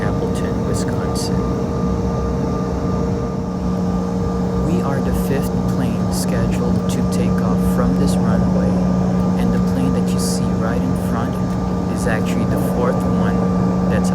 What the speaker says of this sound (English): our plane just left from the gate and we are now heading towards